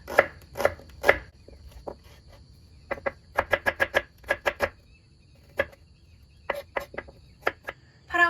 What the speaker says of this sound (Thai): ส่วนหอมแดงนะคะ เราก็จะหั่นเขาเป็นแว่นแว่น แบบนี้นะคะ